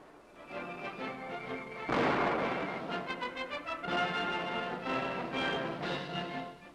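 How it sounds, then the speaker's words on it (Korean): At an airport farewell ceremony, artillery fires a 21-gun salute. Loud, heavy booming bursts hit at intervals, thick and rumbling, over a steady bed of sustained tonal band music. "이날 공항에서는 21발의 예포가 울려 퍼지는 가운데 성대한 환송식이 베풀어졌는데"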